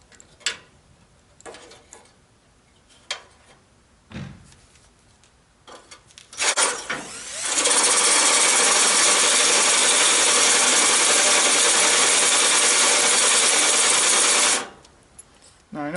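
Power drill driving a self-tapping screw into a Chevrolet C10 truck during a headlight upgrade, a few clicks and knocks, then one long, loud, steady whirring run of about seven seconds, close by.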